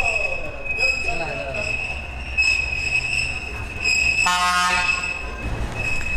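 A small Alishan mountain railway train pulls in nearby, its wheels squealing in high sustained tones, with a brief horn toot midway and voices talking in the background.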